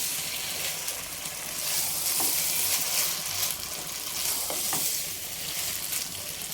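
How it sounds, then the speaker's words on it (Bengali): Two eggs frying with noodles in a hot pan, giving a loud, steady hissing sizzle with faint stirring scrapes, close by and without voices. "এখানে দুটা ডিম দিয়ে দিচ্ছি"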